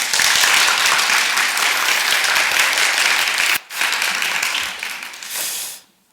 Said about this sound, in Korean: 김 목사님 큰 박수로 환영해 주시기 바랍니다.